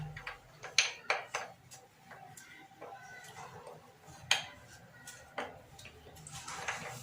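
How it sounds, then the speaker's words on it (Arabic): A knife cutting a bar of chocolate into small pieces for a chocolate cake, producing close, irregular sharp taps and cracks against a board, fairly quiet and alone with no voices. "انا غادي نقسمو شويه هكا باش دغيا يذوب"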